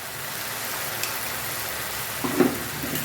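Spices with green and red chili paste frying in oil in a pan, a steady soft sizzle running throughout, with a brief louder crackle near the end.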